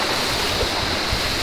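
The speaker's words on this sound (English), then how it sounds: "so there's like a whole river coming down the path here" Running water pouring down a hiking trail near Kathmandu, a steady broadband rush with no pauses, close and fairly loud, with no talk over it.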